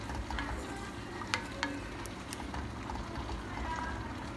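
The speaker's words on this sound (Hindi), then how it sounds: "ये हमारी ग्रेवी बन रही है। अच्छे से हमें इसे मिक्स करते ही रहना है।" Paneer makhani gravy stirred in a pan, a steady soft scraping and low bubbling sizzle with a couple of sharp utensil clinks, with a voice murmuring faintly underneath.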